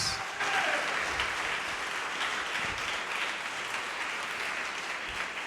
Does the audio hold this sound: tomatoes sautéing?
no